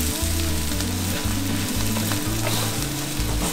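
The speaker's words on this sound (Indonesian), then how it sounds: "sekarang dimasukin si cabai. Nah, minyaknya boleh ditambah lagi dikit ya." Chili peppers sizzle and fry steadily in hot oil in a pan, a loud continuous crackle with occasional stirring, no voices.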